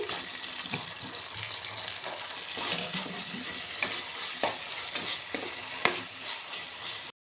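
Green chili paste and chopped tomato for ghugni sizzle steadily in a pan, with soft scraping stirs and small splatters throughout, fairly quiet and close, no talking.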